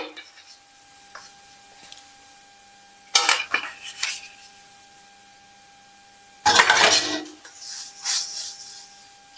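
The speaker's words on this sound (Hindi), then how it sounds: "मैं आज बर्तन धोऊंगी" Dishes, pots and cutlery being washed in two loud bursts of clattering and scraping, separated by quieter gaps, with a faint steady hum underneath.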